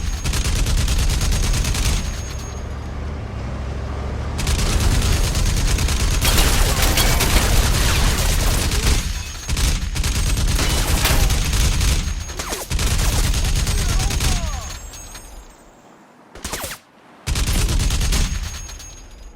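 Sustained machine gun fire in the video game Crysis Remastered, loud dense bursts of rapid shots with brief pauses and a few near-silent gaps, no talking.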